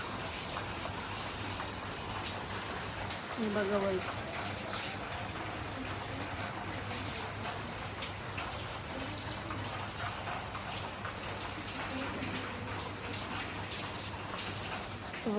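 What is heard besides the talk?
rain falling in the morning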